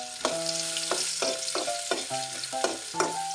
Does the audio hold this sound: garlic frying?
yes